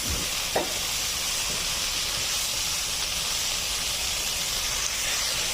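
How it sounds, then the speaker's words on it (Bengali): Leafy greens frying briefly in a pan, a continuous broad hiss of steam and sizzle held at an even level, with one sharp knock near the start. "আমি বেশিক্ষণ ভাজবো না একটু সামান্য একটু ভেজে উঠাই দেবো"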